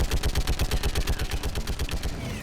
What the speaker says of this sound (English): One active machine gun coming right up